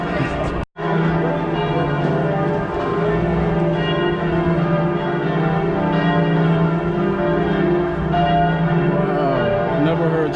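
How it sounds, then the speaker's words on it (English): Church bells in Cologne, Germany ringing continuously in a loud, rich peal of overlapping tones, sustained for the whole stretch after a brief cut near the start. "I've never heard church bells like that."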